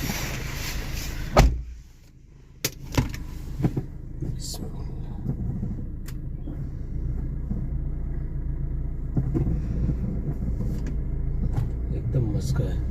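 A Maruti Ciaz, freshly fitted with a new clutch and bearing after an oil leak repair, starts with a door thud and settles into a low steady engine rumble, with a few clunks and a voice talking over it.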